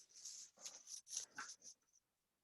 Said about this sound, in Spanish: Mi perro ya está metiendo la cabeza aquí en mis hombros para sacarlo a caminar